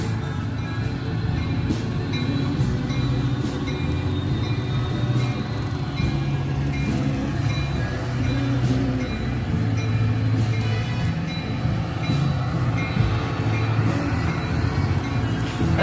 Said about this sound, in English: Metro train to Chicago.